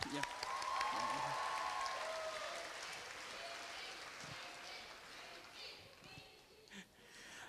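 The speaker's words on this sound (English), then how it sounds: "Let's give our buddies another round of applause." Audience applause at a Korea University graduation ceremony for a six-week international summer program, a moderate burst of clapping that gradually fades, with some voices mixed in toward the end.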